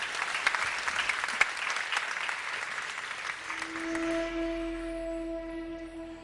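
A crowd at a kung fu demonstration evening applauds steadily for about four seconds, the clapping tapering off as a sustained musical tone starts underneath.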